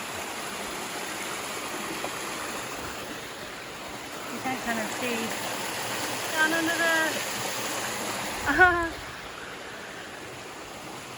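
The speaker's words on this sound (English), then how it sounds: "Water is definitely flowing here." Creek water flows steadily along a wooded stretch of the Appalachian Trail in New York, a constant broadband rush running throughout, with a person speaking briefly over it near the end.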